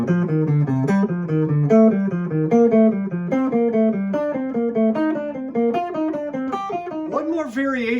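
Guitar plays a descending tetrachord pattern that travels up and down the scale, a fast, even run of crisp plucked notes climbing and then falling, close and unaccompanied.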